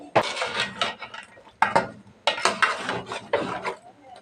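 Chunks of bottle gourd tipped into a pot of sautéed fish, giving close scraping, rubbing and light clinking in bursts separated by brief pauses.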